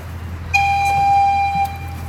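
A train horn sounds one long steady toot of about a second, over a low rumbling background hum.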